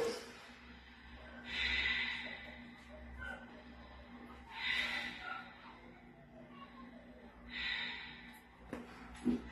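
Slow ujjayi breaths drawn in and pushed out through the nose during a yoga stretching session, heard as three long, soft, hissing exhalations spaced a few seconds apart over a quiet background.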